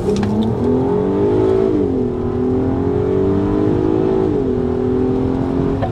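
A Volkswagen Golf 5 R32 engine pulls hard under acceleration from inside the car, a loud continuous drone rising in pitch through two gear changes without interruption.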